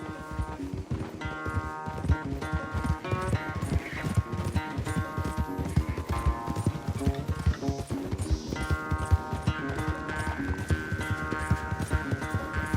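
Horses galloping in a race in the video game Red Dead Redemption 2, rapid rhythmic hoofbeats thudding continuously under a musical score, with a brief whinny partway through.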